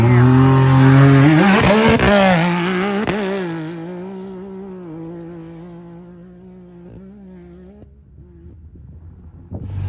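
A high-powered UTV launches from a desert drag race start, its engine roaring loud and close with a rising, revving pitch, then fading into the distance with some wind noise.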